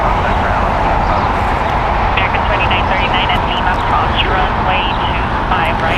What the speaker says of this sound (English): Arriving on the north side there is Southwest Airlines Flight 1139 coming in from SFO.